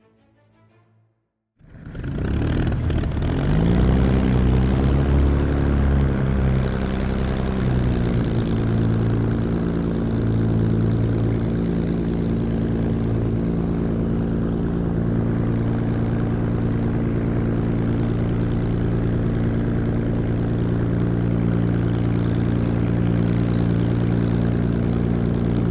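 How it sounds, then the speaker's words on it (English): A WWII Spitfire's Rolls-Royce piston engine, Merlin or Griffon, catches after a short quiet moment and roars up into a loud, steady propeller drone that continues evenly and close by. "only two engine types, the Rolls-Royce Merlin and Griffin, powered the Spitfire."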